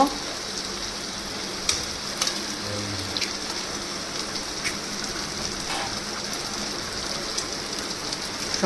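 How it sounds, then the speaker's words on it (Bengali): Eggs added to a pan of softened onions for an egg bhujia, frying in steady, rain-like sizzling hiss with a few sharper crackles and pops throughout, close and even in level. "আর যে পেঁয়াজটা নরম হয়ে গেছে আমি কিন্তু এবার ডিমগুলো দিয়ে দেব"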